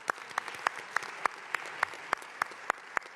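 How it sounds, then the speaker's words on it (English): Steady, rhythmic clapping at an outdoor dedication ceremony for a recreation center in Brooklyn, crisp hand claps repeating at an even pace, fairly close and clear. "let's give them applause"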